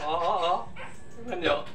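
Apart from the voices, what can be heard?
pet dog barking and whimpering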